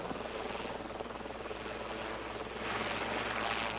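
Helicopter in flight banking sideways to the left, a steady broadband rotor and engine roar that holds constant and swells slightly louder toward the end, close and continuous with no talk.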